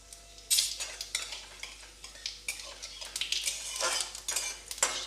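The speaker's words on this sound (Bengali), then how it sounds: "এবার আমি একটা শুকনো লঙ্কা ফাটিয়ে ফোড়ন দিচ্ছি আর জিরে ফোড়ন দেব।" A dry red chilli and cumin seeds tempering in hot oil over medium flame, with crackling sizzle bursts and clinking utensil scrapes against the pan, close and without speech.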